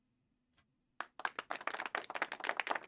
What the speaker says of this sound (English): we gave as much applause as the two of us alone could manage